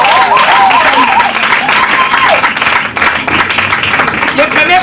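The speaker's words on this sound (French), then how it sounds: "Est-ce que tu peux acclamer le Seigneur?" A church congregation applauds and cheers loudly to acclaim the Lord, a thick steady wall of clapping with whoops and voices mixed throughout.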